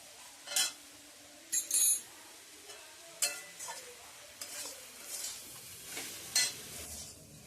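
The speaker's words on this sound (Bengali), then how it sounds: "এবার এই টমেটোটা দিয়ে দেবো, টমেটোটা দিয়ে একটু নাড়িয়ে নেব।" Tomato stirred into vegetables and drumstick flowers in a pan, heard as a quiet, soft sizzle with a series of separate spoon scrapes and clinks against the metal, close by and without any talking.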